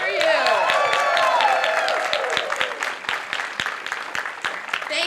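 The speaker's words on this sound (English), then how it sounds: "put your hand in the air so we can clap for you" A crowd at a library branch's grand opening applauds the library staff, with steady, fairly loud clapping under cheering voices that slowly thins out.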